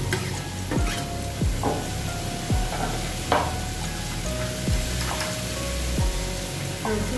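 Sliced onion frying in a pan of hot oil with a little chilli powder, a steady close sizzle with repeated scraping stirs running throughout.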